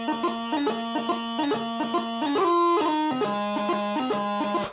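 Highland bagpipes play the pipe tune The Balmoral Highlanders at a reasonable tempo, with a steady drone under a chanter melody of quick grace-note embellishments, loud and close with no talking.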